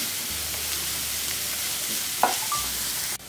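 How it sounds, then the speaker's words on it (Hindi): Carrots fry in ghee with a soft, steady sizzle while being stirred, one brief scrape standing out near the end. "गाजर व कैरेट को सॉफ्ट कर लिया घी में फ्राई करके"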